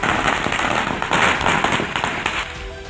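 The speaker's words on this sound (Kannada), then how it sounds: "ಹೊಸ ಫ್ಲೆಕ್ಸ್ ಹಾಕ್ತಿದ್ದಂತೆ ಬಿಜೆಪಿ ಕಾರ್ಯಕರ್ತರು ಪಟಾಕಿ ಸಿಡಿಸಿ ಸಂಭ್ರಮಿಸಿದ್ರು" Firecrackers set off by BJP party workers celebrating a new flex banner in Kolar, a dense rapid crackle of bursts filling the whole stretch at close range, loud and continuous.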